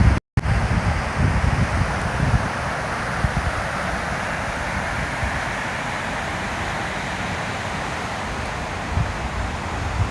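An east-northeast wind of about six knots blows at Surfers Paradise beach, making a continuous rumbling buffet on the microphone with a broad, surf-like wash that stays steady throughout.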